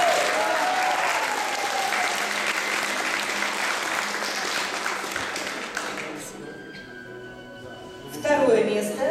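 A crowd at a convention costume contest applauds in a dense, loud burst that gradually thins out and fades. Voices and other sounds come in near the end.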